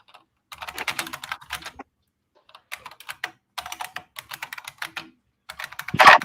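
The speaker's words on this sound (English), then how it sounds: "that's Saleen typing on his keyboard." Saleen types on his computer keyboard in several bursts of rapid clicking keystrokes, close and fairly loud, separated by short pauses.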